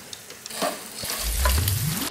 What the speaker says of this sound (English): the sound of fried chicken frying in hot oil